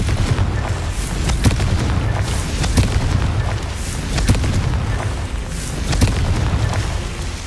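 Confringo fire spells burst repeatedly in Hogwarts Legacy, producing a run of sharp booming explosions at irregular intervals over a rumbling low-end background.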